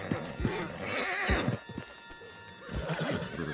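A horse whinnies loudly in Red Dead Redemption 2, with clip-clopping hooves around it and a voice briefly mixed in.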